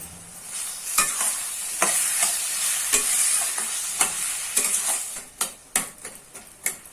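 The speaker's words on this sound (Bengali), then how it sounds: "এবার সমস্ত মশলাটাকে ভালো করে মিশিয়ে নেব" Spices and ginger paste stirred in a hot pan for banana blossom curry, steady sizzling broken by repeated clicks and scrapes of a utensil against the metal, growing sharper toward the end, with no talking.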